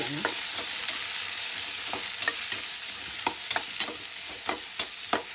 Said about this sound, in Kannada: ಚನ್ನಾಗಿ ಎಣ್ಣೆನಲ್ಲಿ ಬಾಡಿಸ್ತೊಂಡ್ಬೇಕು ಅಷ್ಟೇ ಸ್ವಲ್ಪ ಕರಿಬೇವು ಹಾಕ್ತಾಯಿದೀನಿ